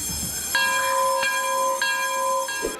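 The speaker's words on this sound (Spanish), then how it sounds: "Suena el timbre y comienza el tan esperado recreo" An electric school bell rings for recess in a steady, sustained tone that runs over two seconds, with faint background bustle at the start and end.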